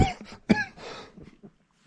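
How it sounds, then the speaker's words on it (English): Coughing in two or three short, harsh bursts with a bit of throat clearing, fairly close and with no talk over it. "Sorry for the coughing."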